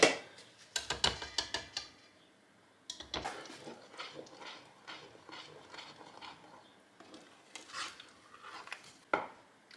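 A wooden spoon clatters and scrapes in a pot of strawberry jam at a rolling boil, giving irregular knocks and stirring scrapes that come in bursts with short pauses between them.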